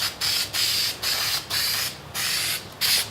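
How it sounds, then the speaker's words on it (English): Aerosol spray adhesive hisses from a can onto carpet for a JL W7 10-inch subwoofer box: about seven close, loud bursts, each roughly half a second long with short gaps between. "I just sprayed on a good amount."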